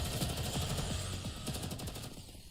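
Rapid, thunderous automatic gunfire from the video game Girls' Frontline 2: Exilium, a dense rattling burst of closely spaced shots that runs continuously and loudly for a few seconds, with no voices over it.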